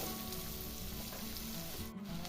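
Chopped onion goes into hot oil with tempering spices for suji upma and gives a faint, steady, hissing sizzle with a low hum underneath and one brief dip near the end. No one speaks.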